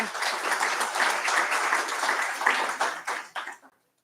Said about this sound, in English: So round of applause for Tina for sticking it out so far.